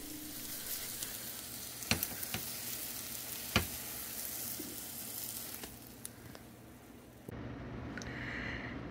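An omelet fries in a frying pan with a steady, moderate sizzle and a few sharp clicks and taps of a utensil, then the sizzle shifts and brightens near the end.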